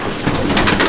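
Madrasi pigeons of an old-generation loft cooing close by, a steady soft throaty murmur lasting under a second with no pause.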